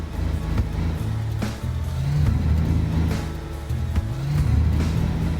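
A heavy truck engine in the Alaskan Road Truckers driving game labours and revs in uneven surges, dipping and climbing as it strains to pull forward after sliding backwards on a slippery road.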